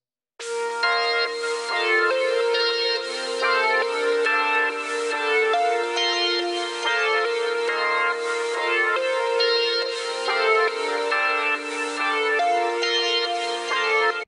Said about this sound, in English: And then I added gross beat, and I used the halftime preset